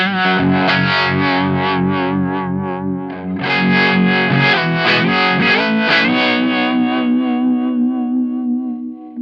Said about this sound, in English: gives me that univibe sort of sound.